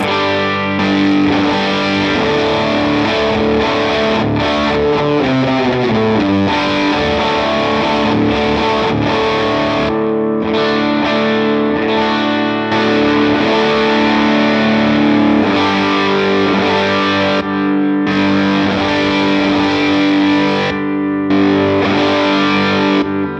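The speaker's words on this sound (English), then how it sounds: "see what kind of distortion we can get out of it" Heavily distorted electric guitar through a Strymon Deco saturation pedal plays loud, saturated chords and riffs, continuous with a few brief stops, with no talking.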